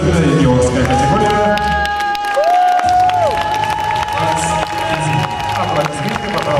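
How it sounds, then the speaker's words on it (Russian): Audience at a 2018 Ukrainian bodybuilding championship, men's junior physique overall, clapping and cheering throughout in a loud, sustained crowd roar, with a lingering tone sweeping through. "Аплодисменты, пожалуйста, за судебных участников"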